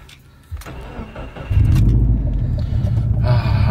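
A car engine cranks and catches, settling into a loud, steady idle rumble after a short starter whir, close by inside the car with no talking.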